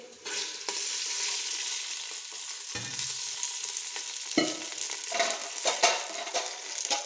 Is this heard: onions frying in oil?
yes